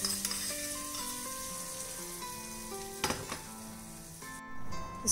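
Tempering of asafoetida and fresh curry leaves sizzles and crackles steadily in hot oil, with a couple of metal clinks and soft background music playing throughout.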